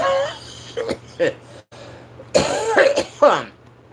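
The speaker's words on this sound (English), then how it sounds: "Vapes make me cough really bad." Several harsh coughs brought on by vaping, in quick bursts, close and loud, with a steady low hum underneath.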